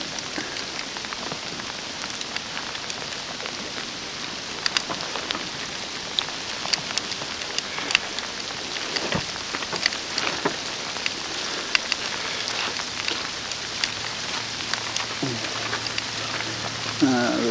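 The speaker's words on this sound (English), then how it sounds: "it is really sleeting now" Moderate sleet falls steadily, a dense, even patter with scattered sharper ticks that continues unbroken throughout.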